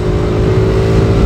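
Loud, close rumble of a manual motorcycle engine revving, a dense continuous low growl with steady throb and no pause or talk.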